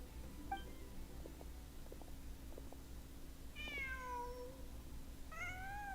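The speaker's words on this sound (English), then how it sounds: "Just a cat." A cat in the Genshin Impact video game gives three soft, clear meows, one short, then two longer, drawn-out calls, over a quiet background hum.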